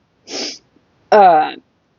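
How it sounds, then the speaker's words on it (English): A single close, loud sneeze from a person, with a short sharp intake of breath just before it and a voiced burst after, with no talk around it. "I gotta sneeze."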